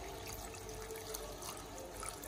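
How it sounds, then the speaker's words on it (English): Water pours into a rice cooker holding vegetable soup ingredients, a faint, quiet, continuous trickle and splash with no voices. "I will add in some water"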